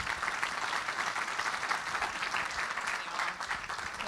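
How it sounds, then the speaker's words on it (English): Audience applause for a newly introduced executive director at the DrupalCon Sydney 2013 keynote, a steady, dense round of clapping from a large crowd that holds at even loudness throughout. "a warm round of applause for our new ED, Ms. Holly Ross."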